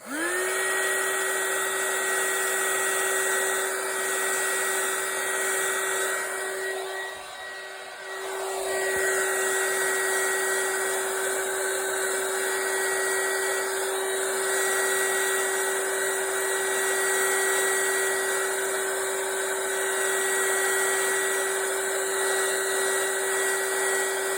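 A hair dryer blows steadily on acrylic paint coated on glass, a loud continuous whirring hum with a high whine that dips briefly partway through, then runs on unbroken with no talking.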